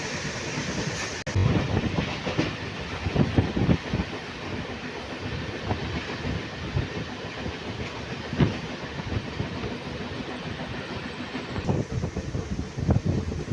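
A nearly empty MEMU passenger train runs on the Nalhati–Azimganj line, its steady rumbling roll and rhythmic wheel clatter heard from inside the carriage, with some wind buffeting and no voices.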